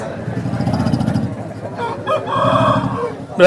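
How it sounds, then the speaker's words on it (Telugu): A rooster crows amid the busy din of a Sunday poultry market in Vijayawada, its drawn-out call rising over a steady murmur of crowd noise and clucking fowl, with a louder burst near the end. "కోడిపుంజి అయితే చాలా మంచి క్వాలిటీగా అయితే కనిపిస్తుంది"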